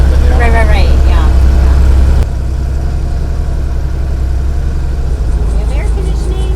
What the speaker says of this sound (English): So weird having like an aviation engine.